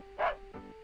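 A single short dog bark from the SNES game Mario's Early Years: Preschool Fun, a bright synthesized bow-wow followed by a fainter second yelp over a low electronic hum.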